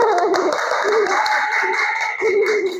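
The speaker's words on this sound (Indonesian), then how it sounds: "Tepuk tangan buat dua." A class of schoolchildren clapping their hands together in a classroom, a brisk continuous patter lasting a few seconds with some voices mixed in, fading at the end.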